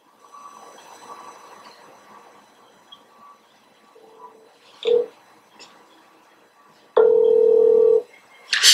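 A telephone number is dialed, heard as a few short tonal beeps followed by a long steady tone, clear against a faint background hum with no talking.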